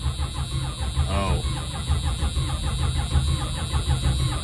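A 1974 Dodge Dart Sport's slant six engine cranks and turns over with an uneven, lumpy rhythm, loud and steady throughout, as if missing on one cylinder, with a voice talking over it.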